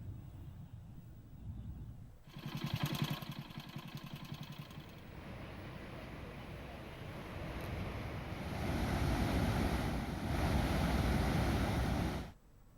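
A tall waterfall crashes down hundreds of feet in the Bijapur forest during heavy rain, giving a steady, broad, roaring rush that swells louder partway through before cutting off abruptly.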